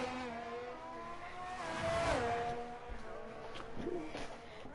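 Race car engine in a racing video game on a qualifying lap at Baku, steady whine with rising and falling pitch as it revs through turns, mostly alone with a faint voice briefly underneath.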